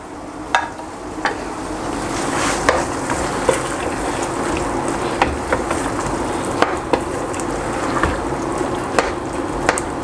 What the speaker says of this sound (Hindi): मेरे जो फ्राई की हुई चिकन है वो इसमें शामिल कर दूंगा और अच्छी तरह मिक्स कर लेना।